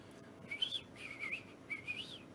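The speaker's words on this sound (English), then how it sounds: "It's like when I go out in the woods in the morning and I hear the first birdies chirping." Faint, thin bird chirps repeat three times in short rising phrases over a quiet outdoor hush.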